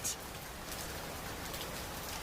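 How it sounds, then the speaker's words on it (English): Steady rain falling outdoors, a soft continuous broadband hiss with a few brighter patters near the start, heard from somewhere sheltered and fairly faint throughout. "he could hear that it was starting to rain outside"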